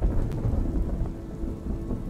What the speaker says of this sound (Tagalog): Medyo malakas pa noon ang ulan